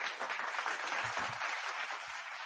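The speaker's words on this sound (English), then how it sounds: "Round of applause one more time." Applause from a live audience after congratulations, a steady wash of many clapping hands at moderate level, continuous for the whole stretch without talk.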